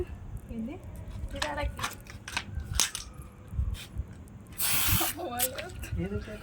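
A spray can fired at a birthday celebration among friends, one short hissing burst of about half a second, heard close amid chatter and laughter.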